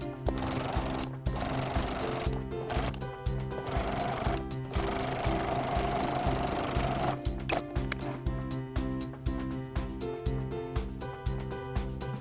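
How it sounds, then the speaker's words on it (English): A sewing machine top-stitches along the edge of a fabric dog bandana at a 1/8 inch seam allowance, running in a fast, steady rapid stitching rhythm with a few short pauses, close and clear. "sew along the top edge using an 1/8 inch seam allowance"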